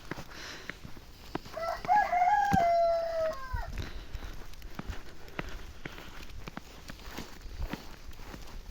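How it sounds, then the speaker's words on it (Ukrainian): A rooster crows once at moderate distance, a drawn-out call rising and falling, over faint outdoor footsteps and scattered clicks. "що півень там десь виспівує."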